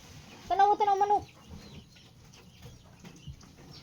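Chickens clucking nearby, a loud burst of rapid, rising clucks and squawks for about a second, then quieter scattered clucks and rustling around a farmyard, with faint voices in the background.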